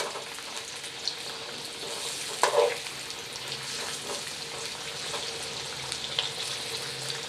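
Potato pieces frying in white cooking oil for a chicken and fried rice meal, a steady soft sizzle running throughout with a brief louder crackle midway.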